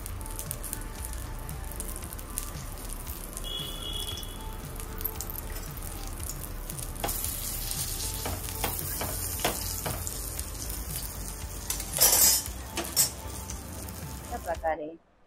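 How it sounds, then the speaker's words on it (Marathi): Brinjal slices sizzle and spit steadily in hot oil in a frying pan, with clattering bursts as the slices are flipped partway through, close and fairly loud throughout. "आता आपण पलटी करूया वांग्याची स्लाइस।"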